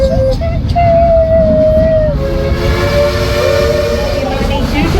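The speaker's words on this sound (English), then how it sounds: "We're on the train." A small ride-on train at Dollywood theme park, Tennessee, rolls along with a steady rumble while a high whistle sounds in long tones, loud and close.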